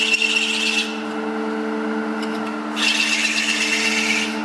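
A steady machine hum with a bright, raspy cutting noise as a specially sized drill bores a wooden recorder, stopping briefly and then resuming, close by.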